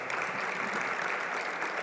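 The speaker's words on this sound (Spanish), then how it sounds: "Un aplauso, por favor." Audience applause at an academic conference, CONISEN 2019, a steady crowd of hands clapping evenly from start to finish, with no voices over it.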